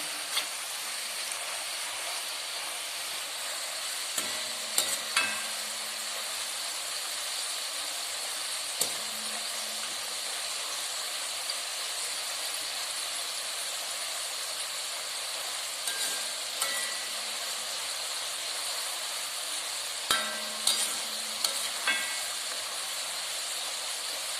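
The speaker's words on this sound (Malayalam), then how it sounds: "നന്നായി ഇളക്കി മൊരിഞ്ഞ ശേഷം വറുത്ത് കോരുക" Steady hiss of potato fries frying in oil, with occasional scraping clinks as the pan is stirred; no voices.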